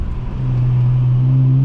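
A J32 V6 VTEC engine in a Honda Accord coupe revs from inside the car, a loud steady drone that rises and holds, close and strong with no talk.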